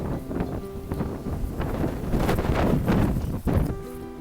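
Strong wind buffets the microphone on a Lake Ontario shore, a loud, continuous rushing roar that swells and dips without any talking.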